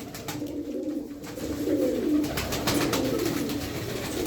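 Pigeons flocking to feed, soft repeated cooing close by in a continuous low murmur, no speech.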